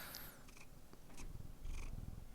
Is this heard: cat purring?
yes